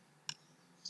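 A single sharp keyboard click as the enter key is pressed while typing on a computer, faint and close, followed by the start of another tap at the very end over quiet room noise.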